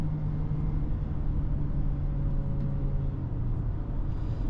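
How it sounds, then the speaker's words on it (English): A 2025 Audi Q3 engine drones steadily from inside the cabin while driving, with a low continuous hum and a faint shift in tone as the automatic transmission downshifts, and no talk. "so it's gonna downshift, downshift."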